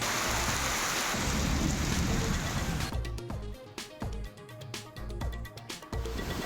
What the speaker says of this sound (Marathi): राज्यात अनेक भागांमध्ये मुसळधार पावसाला